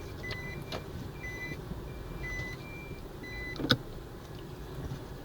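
A car drives slowly around the neighbourhood of a new apartment construction site, with a low, steady road and engine rumble and a few faint beeps and tones, and one brief sharper knock near the end.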